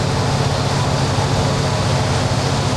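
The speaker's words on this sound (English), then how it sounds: "Let the right engine stabilize." The right engine of a BAe Jetstream 41 turboprop settles after startup, giving a loud, steady, broadband roar with a constant low hum and no breaks.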